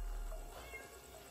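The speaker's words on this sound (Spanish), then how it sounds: "Es un gato." A cat meows in a dark, shadowy tomb-like space, faint and brief against low background noise.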